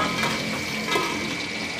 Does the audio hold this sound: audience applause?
no